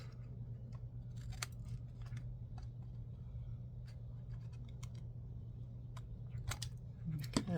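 Scissors snip fabric as the tops of a belly band are trimmed, giving scattered short crisp cuts over a steady low hum, fairly close and quiet, with no talk.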